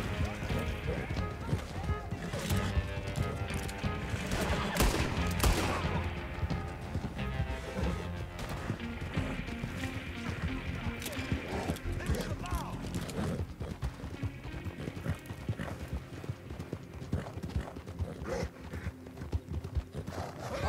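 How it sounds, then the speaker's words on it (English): Horse hooves clip-clopping in steady rhythm with occasional neighs in Red Dead Online, close and busy, mixed with game music and voices talking over the galloping. "Horsey!"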